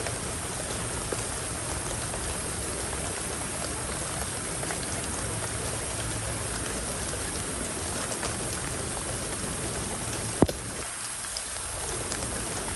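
Light outdoor drizzle near a crab-catching spot, a steady soft hiss of fine rain falling on surfaces, continuous throughout with a single sharp knock near the end.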